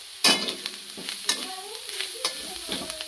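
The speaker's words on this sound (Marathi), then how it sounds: "तर आता यामध्ये कोथंबीर थोडीशी परतून घेतलेली आहे" Chopped coriander sautéed in a pan of pasta masala: sharp spoon scrapes and clatters against the pan at irregular intervals over a continuous sizzle, close and fairly loud.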